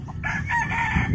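A rooster on a chicken farm crows once in a short, loud, close call, with other fowl and farmyard noise behind it.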